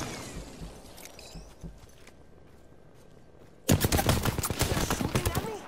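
Gunfire in Apex Legends: scattered distant shots and clatter at first, then a sudden burst of rapid, loud, close automatic fire that continues to the end.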